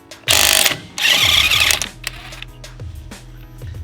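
An impact wrench on its high loosening setting removes lug nuts in two loud, sustained hammering bursts, each about a second long. Clanks and handling clatter follow as the nuts come free.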